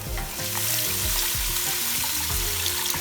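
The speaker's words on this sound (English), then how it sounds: "I'm going to add my water" Water poured into a hot pan of spicy Cajun wild rice sets off a loud sizzle and bubbling hiss, with splashing and low pops continuing steadily up close.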